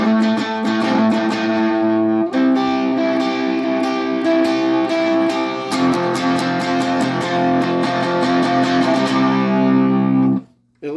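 An electric guitar played through a Vox AC-15 tube amplifier with freshly changed preamp tubes, strummed chords and picked notes ringing loud and slightly buzzy for about ten seconds before cutting off.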